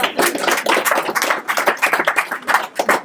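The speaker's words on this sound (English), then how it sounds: "Give him a round of applause." Audience applause during a ghost-story talk, a loud, close burst of many hands clapping at once, continuous and busy for the whole stretch.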